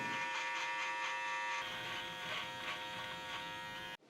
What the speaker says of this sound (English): For a clean finish, you're going to want to cut underneath the chin along the neckline.